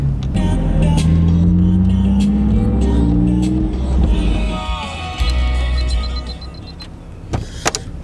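A car interior on the drive home from an auto show, with a steady low engine drone and rising and falling tonal hum as it accelerates, plus a brief electric whine and a few clicks near the end.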